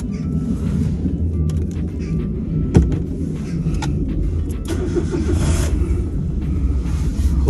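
A car engine cranks and catches on a cloudy day, settling into a steady low idle rumble with a brief click near the start; the sound is close and fairly loud, with no speech over it.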